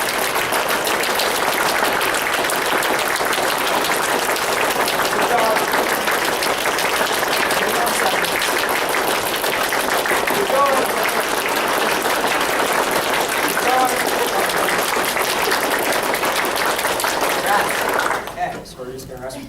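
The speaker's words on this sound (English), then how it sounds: "You're gonna clap as fast as you can." A group of people claps hands as fast as they can in a timed fitness exercise, a dense continuous rattle of rapid claps lasting nearly twenty seconds before stopping abruptly.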